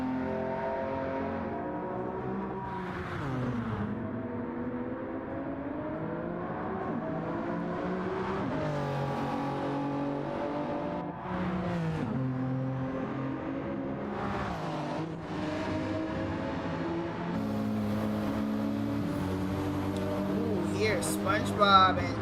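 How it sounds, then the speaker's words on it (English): Engines of Nissan Silvia touring race cars in a racing video game drone steadily with shifting revs as cars battle closely, a continuous loud roar under live commentary. "A little bit of a touch there as SpongeBob weaves around looking for a place to overtake Connor."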